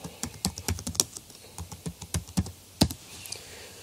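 Quick, irregular clicks of a computer keyboard being typed on at close range, with short pauses between bursts of keystrokes.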